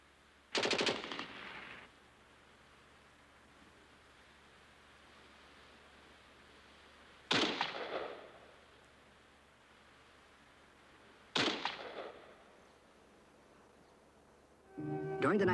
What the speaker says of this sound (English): There was some casual shooting disturbing the quiet.